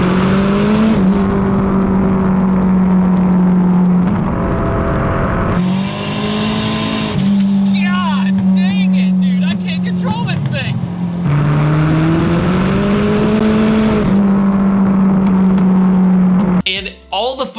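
A tiny, super-light car drives with a loud, steady engine drone that rises and falls with throttle changes, lasting throughout with brief shifts in pitch.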